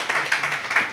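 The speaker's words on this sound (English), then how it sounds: "A round of applause." Brief scattered clapping from a panel audience at a climate and tech start-up session in Bali, a few quick claps in about a second, moderately faint.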